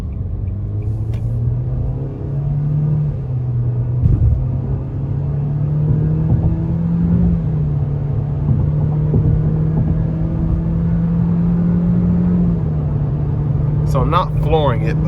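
2024 Nissan Kicks SR in sport mode accelerates moderately to merge, its engine droning steadily and rising in pitch, heard from inside the cabin with a driver talking over it.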